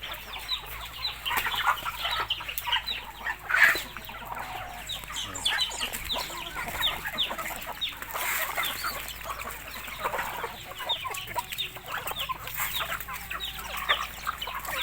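A flock of backyard chickens clucking continuously while being fed, with many overlapping cackles and short calls at close to moderate distance and a brief louder outburst partway through.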